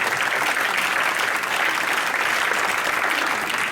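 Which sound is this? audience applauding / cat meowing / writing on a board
audience applauding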